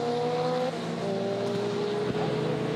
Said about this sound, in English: Accelerating out on the back straight. BMW very fast in the straight line, of course, but the Seat very strong in the corners